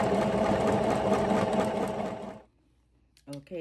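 Sewing machine stitching a ruffle tutu sock, a loud steady mechanical whirr for over two seconds that abruptly stops, followed by silence and a few brief clicks.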